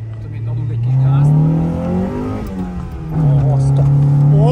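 A car accelerates on a drift course laid out in a parking lot, its engine note rising loudly, dipping at a shift around two seconds, then climbing again; people talk over the revving.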